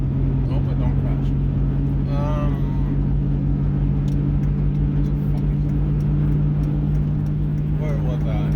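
A car cruising along a highway with a steady low engine drone and road rumble throughout, heard from inside the cabin, while a voice talks quietly in places.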